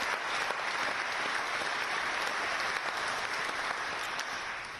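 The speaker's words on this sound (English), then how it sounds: "I'd like to ask everyone for one more round of applause for all our VIP speakers this morning." An audience at a forum in London claps in a sustained round of applause for the speakers, dense and even throughout before easing slightly at the end.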